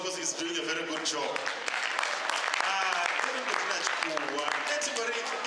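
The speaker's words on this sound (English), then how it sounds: "let us give the MC a round of applause because he's doing a very good job." Audience applause for the MC at a youth seminar, a dense, steady clapping that fills the room for several seconds, with voices mixed in.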